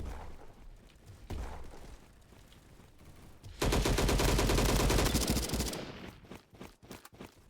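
Sustained automatic fire from the LMGX light machine gun in the online shooter Bad Business, a loud dense burst of about two seconds following quieter scattered game sounds, with no talking.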